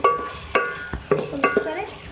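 Spoon stirring turmeric, coriander, red chilli, bay leaves and chopped green chillies into a beef and spinach palak gosht curry in a metal pot, giving a few ringing clinks and scrapes in uneven bursts, close and moderately loud.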